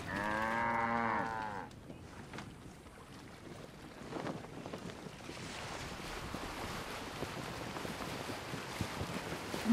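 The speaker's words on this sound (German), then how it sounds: "Ja, und schon wieder eine Kuh." A cow in the game Assassin's Creed Origins lets out a long, drawn-out moo at the start, followed by ambient water and wave-like washing with faint scattered clicks.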